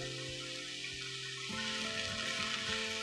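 Chinese cabbage strips stir-frying in a wok, a steady close sizzle with low clatter and scraping as the strips hit the hot pan about halfway through, the noise growing denser after.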